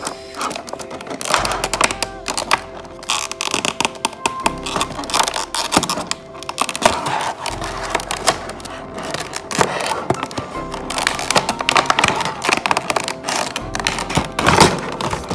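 Cardboard packaging of an Emirates Boeing 777-300ER model aircraft in mobility livery being pulled open, a busy run of rustling, scraping and clicking handling noises close by, with no talk.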